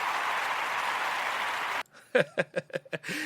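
Dense, even clapping from a group fills the first part and stops abruptly. A short burst of close speech-like sounds follows.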